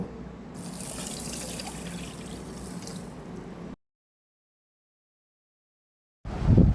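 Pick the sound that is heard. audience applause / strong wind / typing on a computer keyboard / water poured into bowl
water poured into bowl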